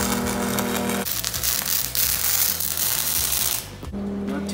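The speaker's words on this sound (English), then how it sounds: "practicing his first weld" A beginner practicing a first weld gives off a steady crackling, sputtering hiss that runs for about three seconds. Before and after it, a low electrical hum sits underneath.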